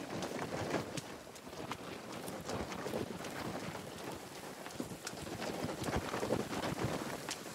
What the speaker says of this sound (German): Oh, ganz schön windig gerade wieder.